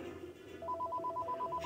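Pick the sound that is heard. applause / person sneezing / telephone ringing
telephone ringing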